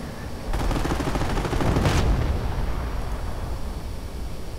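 In a World War II strategy video game, a 105 howitzer fires with a loud, dense burst of booming blasts that rolls into a sustained rumble and slowly fades over several seconds.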